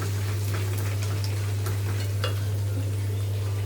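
Peanuts frying in hot oil for mango pulihora, a steady, close crackling sizzle running evenly throughout with faint scattered pops, no voices, over a constant low electrical hum.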